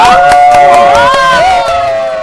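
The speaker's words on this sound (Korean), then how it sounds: "우리 막내 목자를 위해서 박수 한번 부탁드릴까요?" A young adults' church congregation cheers loudly, with voices rising in sustained whoops and shouts and some sharp claps mixed in, the crowd noise held steady before easing slightly near the end.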